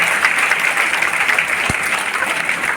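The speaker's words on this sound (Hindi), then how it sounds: "ये मुजफ्फरपुर वाली ताली है" Audience clapping at an event in Muzaffarpur, a loud sustained burst of applause from a crowd filling the whole stretch evenly.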